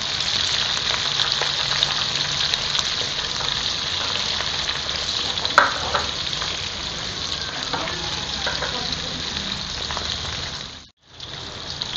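Diced onion sautés in oil in a pan with garlic and ginger, a continuous dense close sizzle like light rain that holds steady, with a few faint stirring touches, then briefly cuts out near the end.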